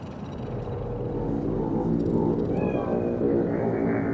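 A cat meows a few times in the video game Cyberpunk 2077, its cries carried over a steady low hum of background ambience and distant city noise.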